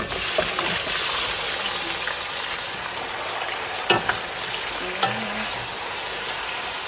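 Chicken fries in a hot pan, a loud continuous sizzle with occasional scraping knocks as it is stirred, close up and steady with no talking.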